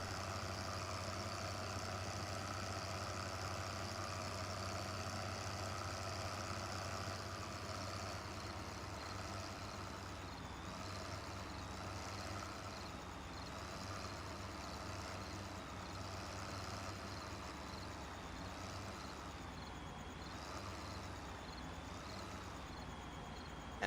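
Articulated tractor engine in Farming Simulator 15, a steady low idling drone with harmonic hum, continuous and fairly loud throughout, with a faint warbling whine creeping in later.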